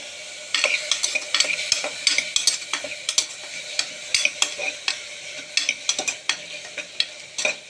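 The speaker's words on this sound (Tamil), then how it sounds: "லேசாக அந்த வெங்காய வாசம் வர வரையில் வணக்கணும்" Onions sauté in a pan for spinach kootu, a continuous sizzle broken by frequent quick metallic scraping strokes of a spoon stirring, close and fairly loud.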